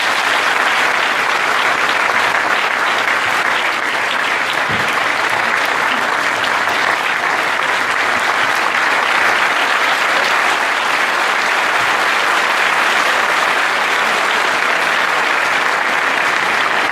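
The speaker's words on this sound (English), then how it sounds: "Let the claps please be rolling." Audience at a college festival event applauding, a dense, steady wash of clapping from many hands sustained throughout, loud and continuous with no distinct voices standing out.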